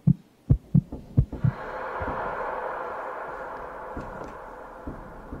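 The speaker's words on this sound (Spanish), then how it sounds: "Se oye el latido." Game heartbeat in the Roblox horror game Intrusion: five loud, deep thumps in a steady double-pulse rhythm, followed by a low, droning ambient hum.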